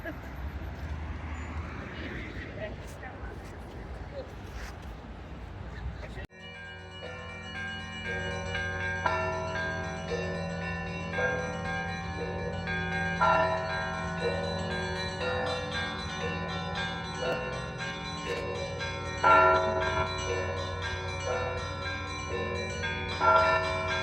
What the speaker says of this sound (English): Going to town, I'm ringing them bells, aren't they? Alright, we know it's 4 o'clock.